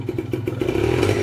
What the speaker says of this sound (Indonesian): Jadi motor juga digas